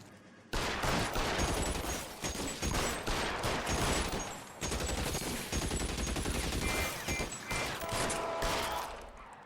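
Gunfire during an L.A. Noire video game shootout: loud, dense bursts of rapid shots and rattling automatic fire, nearly continuous for about nine seconds with only brief gaps and no talking.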